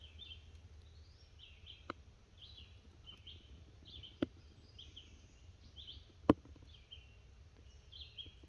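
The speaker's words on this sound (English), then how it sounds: "let me just take a minute of silence, and we'll just listen to the birds." Birds chirp and whistle in short repeated phrases at a moderate distance, heard from beneath a white oak tree, with a few sharp clicks or taps breaking the quiet background.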